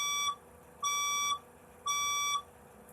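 Fire alarm speaker tone sounding between evacuation announcements: three loud, steady electronic beeps, each about half a second long, repeating evenly with short gaps, close by and with no talking.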